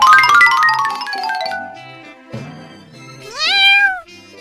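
A cartoon kitten meows several times, loud and close, with a long high cry at the start, a short squeak midway and a rising wail near the end.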